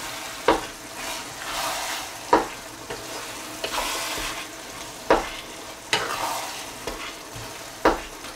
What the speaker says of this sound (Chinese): 咱们给它继续搅拌均匀